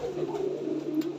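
Lotan pigeons at a pigeon sale in Purba Medinipur give a brief, soft, close coo that rolls along in a low, wavering tone.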